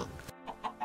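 A Minecraft chicken gives short clucks near a farm area in the game, two or three quick, clear clucking calls over under a second.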